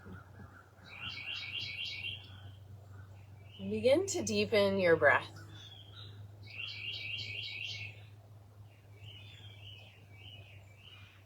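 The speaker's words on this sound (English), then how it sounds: "You can hear all the birds waking up and singing in the morning, even a woodpecker." Morning birdsong of rhythmic chirping phrases repeats at a moderate distance over a low steady hum, briefly broken by a spoken voice in the middle; no woodpecker drumming stands out.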